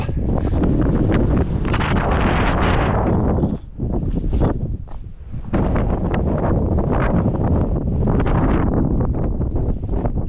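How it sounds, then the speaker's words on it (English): Strong wind on a mountain peak roars and buffets the microphone almost continuously, with a couple of brief lulls, loud and close. "it's still pretty windy"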